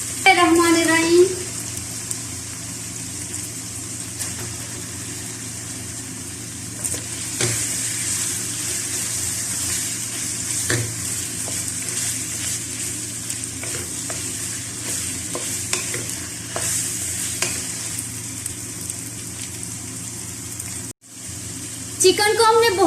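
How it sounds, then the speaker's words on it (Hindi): Chicken pieces fry in a karahi with garlic and ginger, giving a steady hiss of sizzling oil broken by scraping stirs of a utensil against the pan. "चिकन को हमने बहुत अच्छे से फ्राई करना है।"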